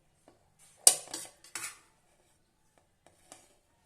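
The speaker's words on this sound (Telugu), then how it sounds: "డిష్ అవుట్ చేసుకుందాం. కొంచెం కింద మీద కలుపుకుంటే బాగుంటుంది." A spoon scrapes and clinks against a dish while masala pulao is served, giving a few sparse, fairly quiet taps and scrapes with long pauses between them.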